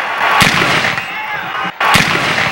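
Fireworks burst at a Breathitt County high school football celebration in Jackson with two loud, sharp booms about a second and a half apart, each trailing into crackling noise.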